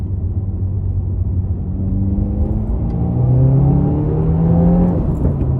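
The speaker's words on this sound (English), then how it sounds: "I'll go ahead and do another acceleration from 3K RPM," A 2022 Subaru WRX fitted with an aftermarket air filter accelerating in second gear from about 3,000 rpm, a loud steady engine drone that climbs gradually in pitch and grows louder partway through, heard from inside.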